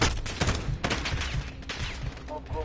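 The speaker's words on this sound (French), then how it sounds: "Mais qui c'est qui me tire dessus là?" Bursts of rapid automatic gunfire in the Call of Duty Modern Warfare video game, loud and dense, the shots overlapping across the whole moment with no voices over them.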